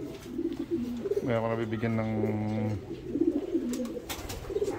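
Racing pigeons coo in a breeder's loft, a long, low, rolling coo standing out clearly while a person talks before and after it.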